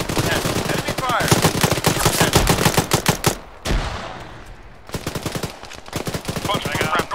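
Enemy machine gun fire in the military game Arma 3: loud, rapid sustained bursts of automatic gunfire with a brief pause and a heavy crack midway, then more rattling bursts close by.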